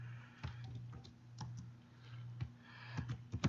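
Keys click on a computer keyboard in irregular bursts of typing, close and fairly crisp, with a low steady hum underneath and no voices.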